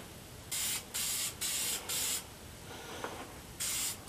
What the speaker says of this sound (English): Lightly spray a couple of coats on there.